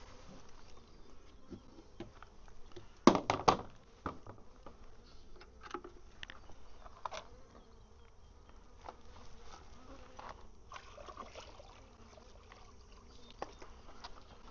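Many honeybees buzzing around a hive being taken down, a dense drone with occasional louder passes close by, plus some light knocks and splashes of water.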